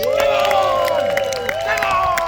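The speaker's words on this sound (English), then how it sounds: "big round of applause then for the Iron Age!" At Arundel Castle's history festival, a crowd cheers the Iron Age group with loud, overlapping voices and shouts, mixed with clapping and general hubbub, close and continuous for a couple of seconds.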